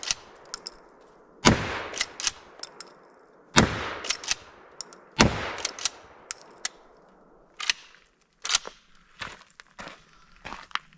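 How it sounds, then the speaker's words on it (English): An antique shotgun is slam fired outdoors, giving a few loud, sharp blasts in quick succession. Metallic clanks of the action and lighter knocks and clatter follow, and no one speaks. "That was fun, that slam firing."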